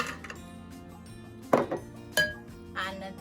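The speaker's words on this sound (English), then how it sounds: "ice cubes," Ice cubes dropped into a glass while making a pineapple piña colada, giving a few separate bright clinks and clunks at close range, spaced out over a few seconds against a quiet kitchen background.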